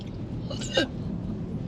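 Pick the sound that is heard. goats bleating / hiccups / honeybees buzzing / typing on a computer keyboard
hiccups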